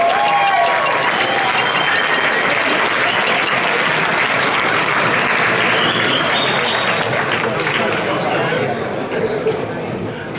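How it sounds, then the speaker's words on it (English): A heavy metal hall of fame induction crowd applauds loudly for a musician, thick continuous clapping mixed with cheering and chatter that holds for about ten seconds before easing slightly. "a round of applause, please, ladies and gentlemen, for Mr."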